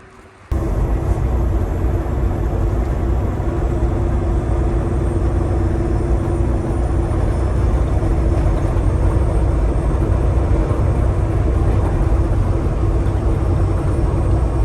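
An SRT10 car engine running after refuelling kicks in abruptly and holds a loud, steady, close engine drone for the rest of the clip, with no talking.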